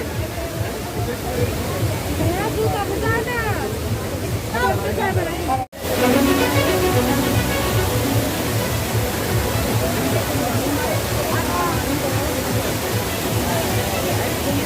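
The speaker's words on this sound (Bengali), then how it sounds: "প্রিয় বন্ধুরা এই ঝর্ণাটি সিলেটের জাফলং ঝর্ণার চেতে এবং অন্যান্য বড় ঝর্ণার চেতে কম নয়" Waterfall in a park, its dense, steady roar loud and close throughout, with a brief dropout near the middle and some crowd voices mixed in under the rushing water.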